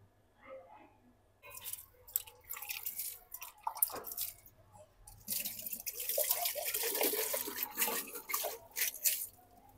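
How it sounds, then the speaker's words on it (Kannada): Water is poured over small hydroponic seedlings in the morning, giving close, irregular splashes, drips and trickles that grow denser and steadier midway, with no talking. "ಸ್ನಾನಕ್ಕೆ ಹೋಗೋಕ್ಕಿಂತ ಪೂರ್ವದಲ್ಲೇ ಸ್ವಲ್ಪ ನಮ್ಮ ಹೈಡ್ರೋಫೋನಿಕ್ಸ್ಗೆ ನೀರು ಹಾಕಿ ಹೋಗೋಣ"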